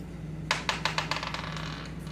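Dice roll for a 3rd grade multiplication game: a quick series of close clattering taps that bounce and settle over about a second and a half, with a low hum underneath.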